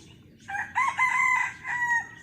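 A young game rooster crows close by in cold, overcast weather, one long drawn-out call with rising and falling notes over a faint background hum.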